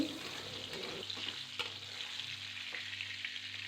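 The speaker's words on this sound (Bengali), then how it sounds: "এবার কুমড়োটাকে হাফ মিনিট মতো নাড়াচাড়া করছি" Pumpkin pieces being stirred while frying in a pan, a continuous bright sizzle with a brief clink of the spatula early on and soft scraping moves, close and steady without any voices.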